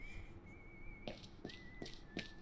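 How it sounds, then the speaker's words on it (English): A character in the video game Syberia whistling a little tune, a thin steady melody at low level over background, accompanied by a few soft rhythmic taps or steps, with no talking. "Oh, now he's whistling. He's whistling his little tune. Can you hear that?"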